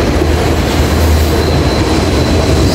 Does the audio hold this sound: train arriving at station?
yes